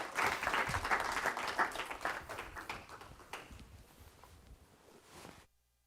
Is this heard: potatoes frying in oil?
no